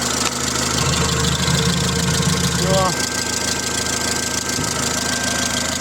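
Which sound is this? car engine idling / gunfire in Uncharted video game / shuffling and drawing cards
car engine idling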